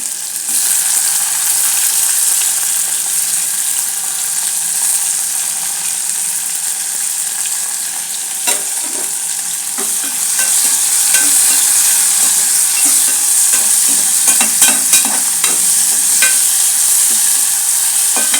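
Mustard seeds frying in hot oil for Telugu bagara menthi aku pappu, a steady loud crackling sizzle with sharp pops and spluttering bursts throughout, growing denser partway through, with no voices.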